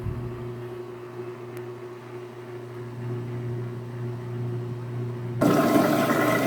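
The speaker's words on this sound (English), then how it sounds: "So now it's draining the water, and this is probably the loudest part of the whole process." A self-cleaning cat litter box (CatGenie) hums steadily with a low tonal drone during its cleaning cycle, then a loud rush of draining water suddenly starts near the end, close by.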